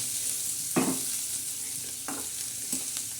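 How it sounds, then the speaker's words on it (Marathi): Curry leaves tempering in hot oil give a low continuous sizzle, with a few sharp crackling pops spaced a second or so apart, close and fairly quiet. "आता हे मस्तपैकी फ्राय होत आहे"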